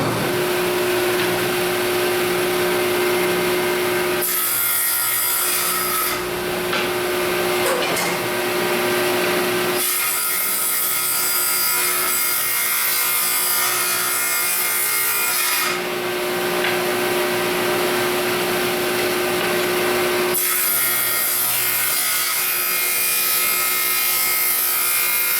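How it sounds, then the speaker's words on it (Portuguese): A piece of solid, dry cambará wood is sawn in several long, steady rasping bursts. They are separated by brief pauses, and the cutting sounds close and loud throughout. "Cortar um pedaço de cambará,"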